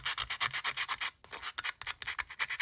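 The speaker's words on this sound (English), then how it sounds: "This is one of the sanding discs." Close, rapid back-and-forth scratchy rubbing of a sanding disc in quick rhythmic strokes, with a brief pause midway.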